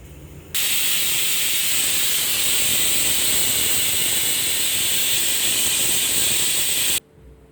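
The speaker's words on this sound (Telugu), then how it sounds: "కుక్కర్ విజిల్ వచ్చింది" A pressure cooker whistle releases a loud, continuous hiss of steam for about six seconds, starting abruptly and cutting off sharply, while dried red chilli dal cooks in a home kitchen.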